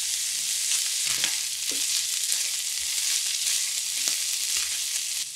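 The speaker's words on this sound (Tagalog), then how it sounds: "Tapos, bawang naman ang ilalagay ko. Nagbuhos din ako ng konting mantika dito." Chopped garlic frying in a little cooking oil for siomai fried rice, a steady close sizzle with faint crackles and occasional stirring scrapes of a utensil in the pan.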